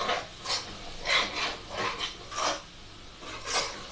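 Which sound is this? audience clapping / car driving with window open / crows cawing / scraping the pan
scraping the pan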